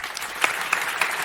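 Brief burst of audience applause at a French comedy stage show, scattered claps with a few sharper hits standing out above a soft crowd wash.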